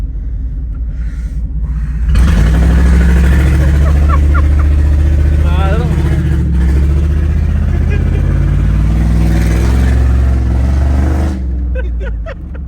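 A Ford OBS pickup truck with a newly installed fuel pump and a muffler, its engine rumbling loud and close, revving up and down in several rising and falling pulls before cutting back, with people talking over it.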